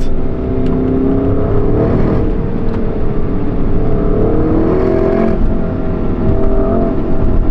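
Porsche Cayenne Turbo GT driving hard through a corner, a loud steady engine drone heard from inside with shifting rev tones and faint tyre and road noise, continuous and close.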